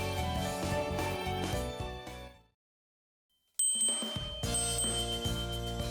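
A cat girl's small bell jingles in the Nekopara visual novel, with bright ringing tones over background music, a brief silence, then a sharp tinkling ding as music resumes.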